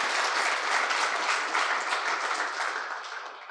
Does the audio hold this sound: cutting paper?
no